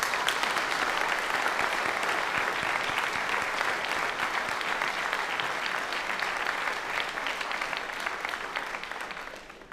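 Audience applause at an honors convocation, a dense, steady clapping from a full room that holds for nearly ten seconds before tapering slightly at the end.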